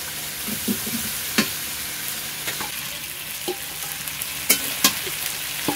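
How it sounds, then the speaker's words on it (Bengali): Pieces of taro hit hot oil and spices in a pan and fry with a continuous bright sizzle, broken by a few sharp clacks from stirring, close by with no voices. "এবার আমি এই কচুর গাটিগুলো এর মধ্যে দিয়ে দেবো।"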